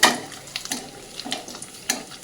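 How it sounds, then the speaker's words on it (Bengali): Pakoras fry in hot oil while more oil is ladled over them from above, giving a short burst of crackling sizzle with a few sharper spits, close and fairly loud, with no voices. "এবার এই যে গরম তেলটা না উপর থেকে এইভাবে এইভাবে দেবে"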